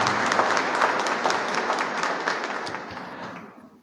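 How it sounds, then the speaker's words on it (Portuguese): Church congregation giving a round of applause during a Sunday Trinity Mass, dense steady clapping from many hands that fades out over a few seconds, no talking. "Saudemos com uma salva de palmas, irmãos e irmãs"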